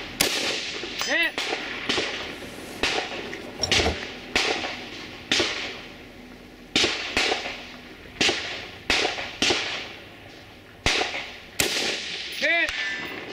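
Rifle gunshots at a sniper match stage, roughly fifteen sharp cracks fired at a steady, spaced rhythm, each followed by a short echo and faint metallic ring.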